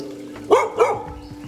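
A dog in Thailand gives two quick, close barks, loud against a steady low background hum, with no talk.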